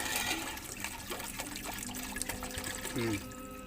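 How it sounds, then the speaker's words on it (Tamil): Water pouring into a pot of chicken biryani, a steady faint splashing and trickling that runs throughout, with some kitchen clatter. "தண்ணி ஊற்றியாச்சு"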